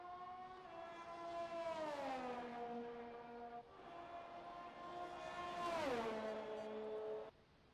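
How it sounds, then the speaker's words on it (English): AlphaTauri AT02 Formula 1 car in F1 2021, its engine whining high and dropping in pitch through two downshifts into braking, then rising again before cutting off sharply, alone and steady. "I'll allow you to have a few seconds of blissful sounds from the driving of my"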